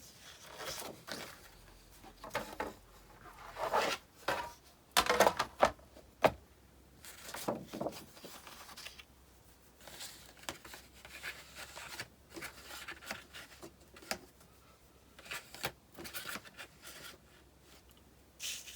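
Paper being scored along marks for a handmade Valentine album cover, heard as intermittent close scraping and sliding strokes with soft handling noises in a quiet room.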